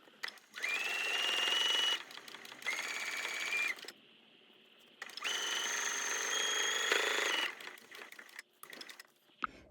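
A sewing machine stitches quilt binding in two long whirring runs separated by a brief pause, then stops with a few light clicks and handling noises.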